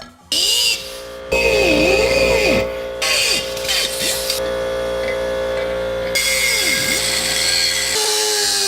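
A power saw cuts a piece off a car part during an H22 engine swap, making loud, harsh whining and grinding in bursts, with the pitch sliding up and down as the blade loads and breaks off between cuts.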